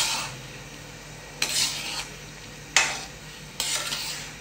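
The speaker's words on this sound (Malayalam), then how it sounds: "നമ്മളെ ശർക്കരയെല്ലാം നന്നായി ഉരുകാൻ തുടങ്ങിയിട്ടുണ്ട്." Jaggery melting in a pan for peanut chikki is stirred in three distinct, close scraping strokes. A soft sizzle sounds between the strokes, and no one speaks.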